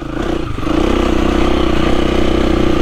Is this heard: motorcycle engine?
yes